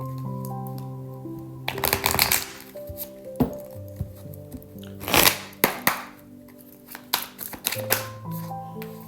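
Oracle cards shuffled for a tarot reading, with several bursts of riffling and card snaps over soft background music, loudest near the start and middle and close to the mic.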